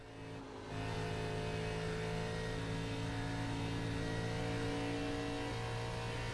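A 2006 Cup Series stock car in the iRacing sim at Atlanta Motor Speedway holds a steady, loud engine drone with sustained harmonic tones and slight throttle variation. The sound runs continuously after a brief quieter start, with no talk.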